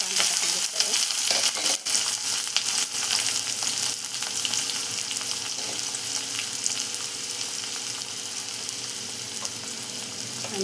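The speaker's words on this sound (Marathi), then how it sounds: "मिरच्याच्या नंतर बघा नंतर कांदा टाकून घेतला आहे." Onion fries in hot oil with mustard seeds, cumin and chillies, giving a loud continuous sizzle and crackle with occasional stirring scrapes, while a voice talks faintly over it.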